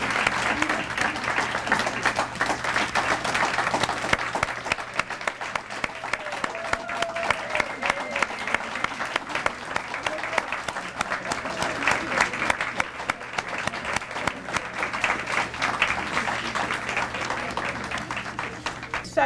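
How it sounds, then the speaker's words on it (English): An audience applauds women leaders at an awards evening, with sustained, dense clapping from a sizable crowd that keeps up for nearly twenty seconds. "Let's give all of these ladies a round of applause for their achievements."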